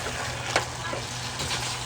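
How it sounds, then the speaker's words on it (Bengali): Chickpeas are sautéed in a spice masala for chole, giving a steady close sizzle of frying with a few scraping stirs of a spoon in the pan. "ছোলাটা দিয়ে আমি একটু কষে নেব।"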